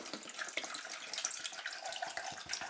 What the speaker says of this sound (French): Et on va mettre donc de l'eau.